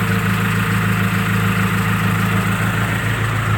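A truck engine idles steadily with a deep, even rumble and constant hum, loud and close, with no other sounds.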